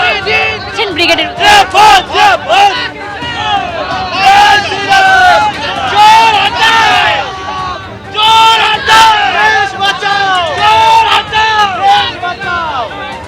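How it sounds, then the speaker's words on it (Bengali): A BJP supporters' procession at Howrah station, bound for the Brigade Parade Ground, chants slogans in loud, rhythmic bursts, a dense crowd of voices rising and falling with short pauses between cries. "স্লোগান দিয়ে ব্রিগেড প্যারেড গ্রাউন্ডের উদ্দেশ্যে রওনা দিচ্ছেন কর্মী সমর্থকরা"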